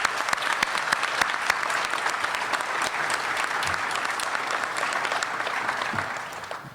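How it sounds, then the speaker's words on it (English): A crowd at a Houston Cougars football coach's introduction applauds the young football players, a steady wash of many hands clapping throughout with no speech over it, fading slightly at the end. "Let's give those kids a round of applause"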